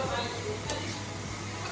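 Oil sizzling in a pan over a wood-fired clay stove as food is lifted out with a strainer, a steady close hiss with faint stirring and a brief scrape.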